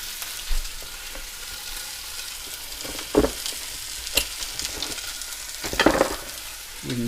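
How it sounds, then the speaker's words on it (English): Beef short ribs searing meat side down in a hot pan, fat rendering, give a steady sizzle throughout with a few louder crackling bursts near the end, no talking. "So I went meat side down first to render some of that fat in there."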